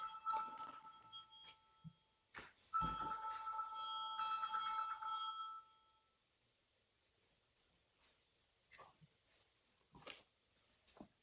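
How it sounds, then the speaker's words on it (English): A phone rings nearby during a recorded lecture: a short electronic chirp, then a sustained, bright, warbling ring lasting a few seconds, then near silence broken by a few soft clicks and taps. "There's a phone ringing."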